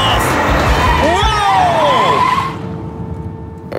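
A Peugeot 208 driven by Sebastien Loeb accelerates hard, loud engine roar with rising and falling tire squeal sweeping through, fading to a quieter steady hum with a lingering tone near the end.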